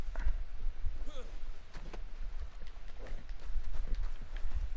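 Horse hooves clip-clop in Red Dead Online, a steady patter of game footfalls running under continuous talk and background noise.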